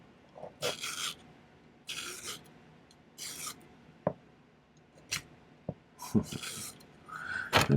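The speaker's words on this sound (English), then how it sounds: "I'm going to, I think, file them flattish, straight up and down" Silver is being filed by hand with a jeweler's file while making a wrap-around ring, giving bursts of rasping strokes separated by short pauses, with a few sharp clicks and taps in between.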